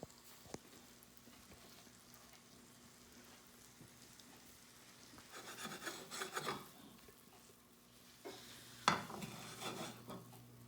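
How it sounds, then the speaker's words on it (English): Food sizzling in a frying pan over medium-high heat at a home cookout, a faint steady crackle with scraping and rubbing utensil sounds rising in brief louder patches, close and without talk. "You can hear them sizzling"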